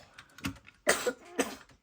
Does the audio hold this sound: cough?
yes